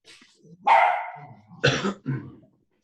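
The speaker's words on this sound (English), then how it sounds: "Sorry, my dog is really vocal." A pet dog barks indoors during an online meeting, giving three loud, close, separate woofs over about two seconds with short gaps between them.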